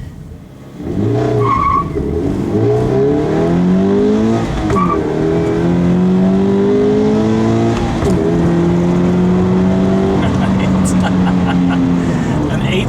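A stock Scion FR-S launches hard from about 2,500 rpm for a 0 to 60 run, the engine revving up through several rising gear sweeps with brief shift breaks, loud and close from inside the cabin.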